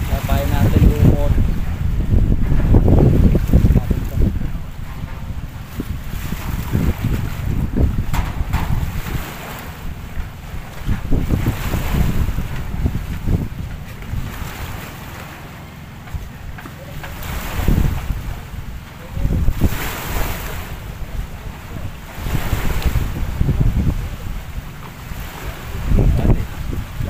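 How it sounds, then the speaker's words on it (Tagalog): Strong northeast monsoon wind buffets the microphone in loud, rumbling gusts while fishing from a boat, with splashing water and voices occasionally audible beneath it. "medyo malakas ang hangin"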